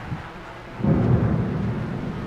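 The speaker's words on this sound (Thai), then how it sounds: "เสียงฟ้าร้องเหรอ" Thunder rolls in as a low, swelling rumble that jumps up after a quiet moment and holds for a second or so, heard with no talk over it.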